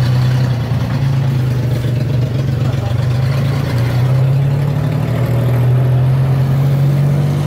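Tuk-tuk engine running steadily during a ride toward a bus station in Thailand, a loud, constant droning rumble with a low buzzing tone that barely varies, slight shifts in pitch as it holds speed, no voices.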